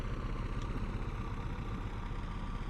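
Aircraft propeller engine idling in Microsoft Flight Simulator, a steady low droning hum with even vibration, constant and moderately quiet, no voices.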